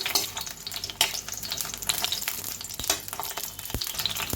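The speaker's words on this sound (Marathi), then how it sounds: "एक दोन ते तीन मिनिटं ही वांगी छान खबंग तळून घ्यायची" Brinjals fry in hot oil with a dense, crackling sizzle and a few scraping stirs, steady and close throughout with no talking.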